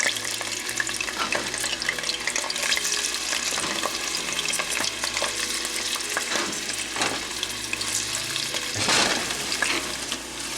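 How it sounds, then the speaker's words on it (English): Onions sautéing in olive oil in a pan, a continuous close sizzle broken by repeated stirring scrapes and clatter. "so we saute our onions"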